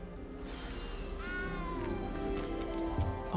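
A cat meows in Hogwarts Legacy, a short rising and falling mew partway through over a steady ambient game background, fairly quiet and with no talking.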